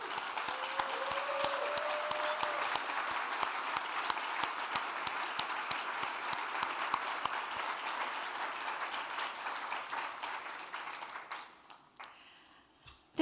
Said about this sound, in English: Russ, Valerie, would you please stand and we can applaud you